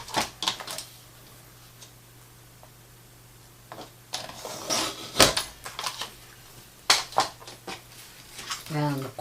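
Scissors snip paper for a junk journal mini zine, with several sharp, close cuts and rustles scattered among quiet pauses, and a faint hum underneath.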